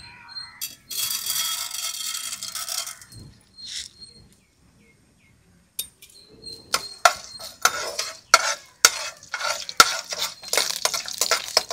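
Mustard seeds, dried chillies and lentils such as urad and chana dal frying in a hot oil pan, brief sizzles and bursts of crackling between sharp metal clinks of a spoon stirring against the pan, close up, with a quiet pause midway.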